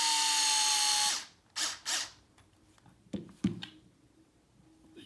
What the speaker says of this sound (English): to make things quicker, I'm going to use an electric screwdriver